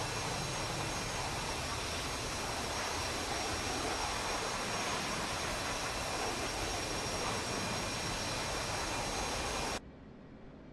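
A steady, loud roar of an F-18 fighter jet engine in a flight game, broadband and constant for about ten seconds before abruptly dropping to a quieter hum.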